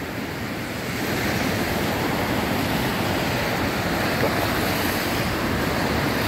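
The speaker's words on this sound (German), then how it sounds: "das ist auch Wasser aus den Straßen, was hier so durch die Gullis kommt" Floodwater rushes through the streets of Alanya and pours down storm drains, a loud, steady broadband roar that continues without a break for the whole stretch, with no voices over it.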